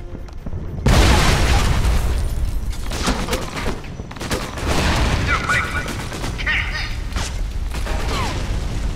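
A loud blast opens a stretch of heavy booming grenade explosions and crackling gunfire in the video game Alpha Protocol, dense and continuous, close and intense throughout.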